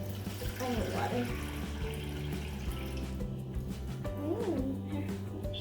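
A kitchen tap runs steadily during cake baking, with continuous water flow under background talk and clatter.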